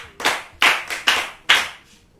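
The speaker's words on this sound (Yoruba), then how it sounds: "ẹ pàtẹ́wọ́ fún o. ẹ pàtẹ́wọ́ fún." Children clap their hands in a short run of five sharp, close claps at a loose, uneven rhythm, the last one softer, with no voices over them.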